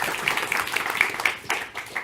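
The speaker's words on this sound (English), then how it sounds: "Round of applause." An audience applauds a pitch-competition presenter in a brief, dense burst of clapping that fades slightly toward the end.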